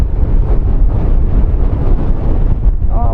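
Gusty wind blasting an outdoor microphone at an airport, a heavy, steady low-frequency rumble that stays loud throughout, with a short voice rising at the very end.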